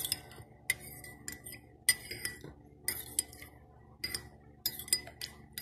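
A spoon clinks and scrapes against a cup while stirring taho with milk and sago, giving close, irregular metallic taps in short bursts with no talking.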